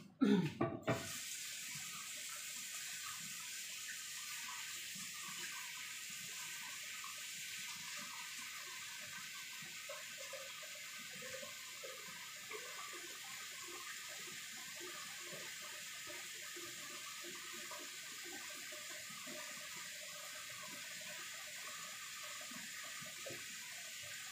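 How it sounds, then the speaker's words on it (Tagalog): Tap water runs steadily into a cooking pot, a soft continuous splashing rush that stays even throughout with no voices. "Ilalagay muna tayo ng tubig sa ating kasirola."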